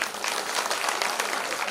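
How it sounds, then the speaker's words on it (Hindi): An audience at a village Shiv Mahapuran katha gathering in Sukhi Taknaur claps together in a dense, continuous burst of applause, loud and steady throughout. "एक ताली और मारो।"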